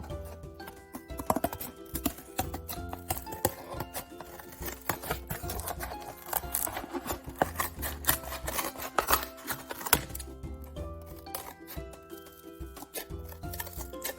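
Scissors snip and rasp through cardboard in a craft workshop, a steady run of close, scratchy cutting strokes with brief pauses and no speech.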